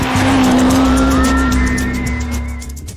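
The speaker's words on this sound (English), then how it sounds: "here's a Lotus Exige to show you how good cornering should be done" Lotus Exige cornering hard on a test track, its engine loud and close with a sustained whine while the tyres squeal through the turn, gradually easing off.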